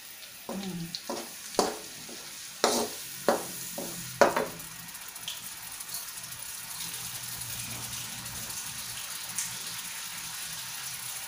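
Blended spice paste drops into hot oil, opening with several sharp spattering bursts and clatters from the pan, then settling into a steady low sizzle that continues alone.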